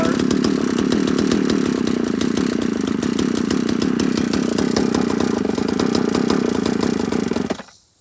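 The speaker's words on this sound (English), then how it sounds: "there's the Partner firing up" A Partner P7000 cut-off saw with a freshly rebuilt carburetor runs at a loud, steady, rattling two-stroke roar for about seven seconds, then cuts out abruptly into silence.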